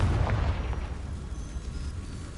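A Confringo spell blast in Hogwarts Legacy, a short booming burst at the start that decays into a low rumbling tail, fairly quiet and alone.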